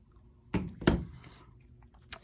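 A handheld craft punch cutting a dragonfly shape from stamped Whisper White cardstock gives two sharp, close clunks about a third of a second apart, then quiet handling.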